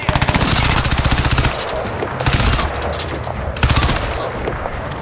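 Automatic gunfire in the video game Crysis 2, loud and close, bursting in rapid rattling volleys with short pauses between them and no talk over it.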